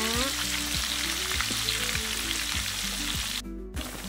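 Tempe frying in oil gives a loud, continuous spattering sizzle near the microphone. It drops out briefly near the end before resuming, with no speech.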